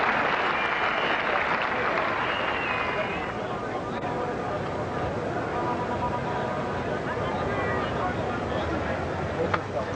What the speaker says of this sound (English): So applause for the 50 going up, 51 for 1, with Broad share now 28.